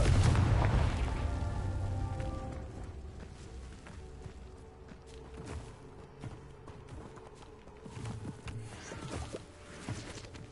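A Confringo spell explosion in Hogwarts Legacy, a heavy booming blast up front that decays into rumbling debris, followed by scattered thuds and footsteps at moderate volume.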